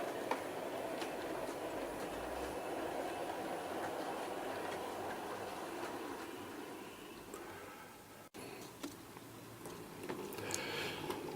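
A British Railways London Midland Region local passenger train on a model railway pulls away from Billingsley station at an exhibition, a steady close rumble and rhythmic clatter of small wheels over rail joints continuing throughout with no voices.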